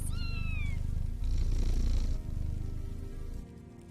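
A contented cat purrs steadily and close up in an indoor room, a continuous low rumbling purr heard alone with no talking over it.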